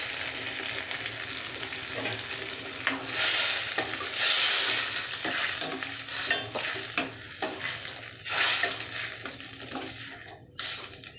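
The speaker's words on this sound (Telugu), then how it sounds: "కొద్దిసేపు ఉడికించుకోవాలండి ఈ విధంగా ఉడకాలండి" Ridge gourd and tomato curry simmering and frying in a pan, a steady sizzle broken by the scrape and clink of a spoon stirring against the metal, close and moderately loud with no voices.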